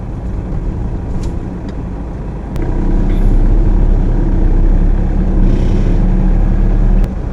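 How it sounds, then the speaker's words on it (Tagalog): Cars in a slow-moving traffic jam near the Magallanes exit, heard from inside a vehicle as a steady low road and engine rumble that grows louder partway through, with a few faint clicks and no talk. "Traffic!"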